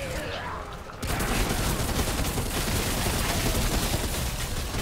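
Gunfire in the video game Remnant From The Ashes, a loud, dense burst of rapid shots that starts abruptly and continues steadily, filling the sound with sharp, crackling noise.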